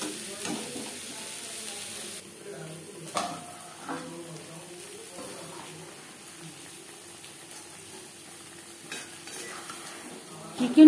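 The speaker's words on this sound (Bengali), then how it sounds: "আলু ভেজে নেব।" Potatoes coated in salt and turmeric fry in a pan for an aloo chicken curry, giving a soft, steady sizzle broken by occasional clinks of a utensil against the pan.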